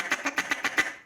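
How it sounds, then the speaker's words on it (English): A series of six short, evenly spaced quacks from an RNT Mondo LA duck call, each a brief nasal burst with some low bass body, heard close and alone. "Good natural quack. You can hit it easy."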